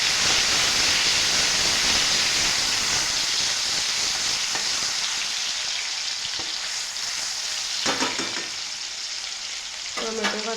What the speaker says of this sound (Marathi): जिरे फुललेलं आहे, यामध्ये घालूयात आता बारीक चिरलेले टोमॅटो.